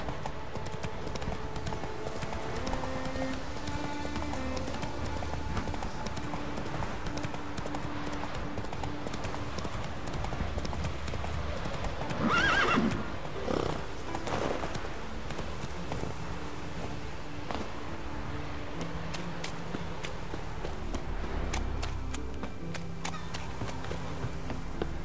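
Roach the horse gallops through The Witcher 3, hooves clip-clopping in a steady rhythm under game music and ambience, with a brief louder burst partway through.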